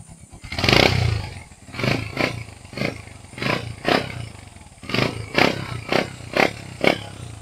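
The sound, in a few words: Honda TMX 125 motorcycle engine starting and running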